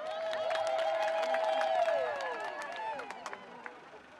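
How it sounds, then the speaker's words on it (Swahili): An audience applauds doctors and health workers at a gathering, with scattered clapping and crowd noise under a loud tonal hum, fading to a few sparse claps. "Na naomba makofi yao mengi sana jamani."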